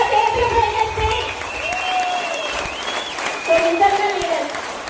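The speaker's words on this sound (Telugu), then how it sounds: "గురువు గారికి ఒక్కసారి గ్రాండ్ గా అప్లాజ్ ఇవ్వండి" Audience at a meeting applauding for their teacher, a dense sustained clapping wash throughout, while a person speaks over it on a microphone.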